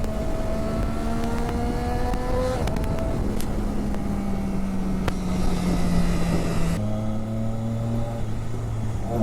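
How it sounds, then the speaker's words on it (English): A Triumph Daytona 675 motorcycle engine revs steadily and loudly close by, its tone holding near one pitch and then dropping to a lower note for the last few seconds, with no talking. "And this is definitely a comfortable motorcycle,"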